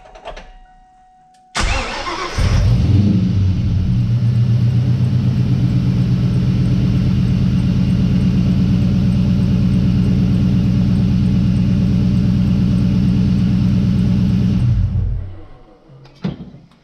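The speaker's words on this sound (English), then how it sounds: "I'm gonna go ahead and crank it over" A Saleen S281 New Edge Mustang engine cranks briefly, then catches and settles into a loud, steady idle close by for more than ten seconds before shutting off.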